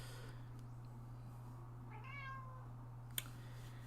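A pet cat gives a short, clear meow close to the microphone over a steady electrical hum in a quiet room, followed by a brief sharp click.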